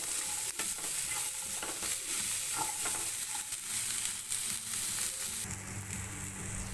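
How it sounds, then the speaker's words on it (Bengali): Green peas and capsicum fry with a little salt in a hot wok, giving a steady close sizzle with stirring clatter throughout and a shift in tone near the end. "সামান্য নুন দিয়ে কড়াইশুঁটি আর ক্যাপসিকামটা আমি ভালো করে ভেজে নেব।"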